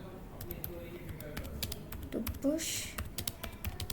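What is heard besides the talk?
typing on a computer keyboard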